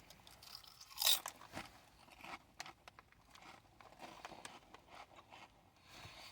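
Sour cream and onion Lay's potato chips crunched in the mouth, with one sharp bite followed by soft, faint, irregular chewing crunches close by.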